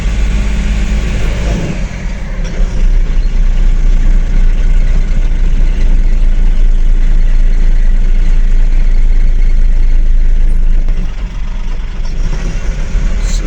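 A vehicle engine drones and vibrates in fourth gear at low speed, a loud, heavy low rumble with rattling that stays steady throughout, dipping briefly near the start and again toward the end.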